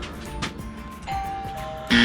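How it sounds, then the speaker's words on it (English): A Eufy 2K video doorbell chime sounds, a clear ding-dong tone followed by a louder, brighter electronic ring near the end, with faint room noise around it. "I'm going to go and test the doorbell to see if that's the one, see if it works or not."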